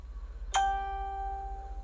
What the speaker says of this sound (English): phone notifications from when people are trying to bother me when I'm asleep